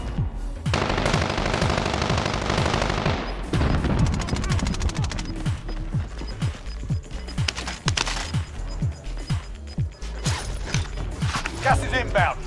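Rapid automatic gunfire from the video game Warzone rattles in dense bursts, then gives way to separate loud shots with metallic mechanism clicks, and a voice briefly calls out over the shooting.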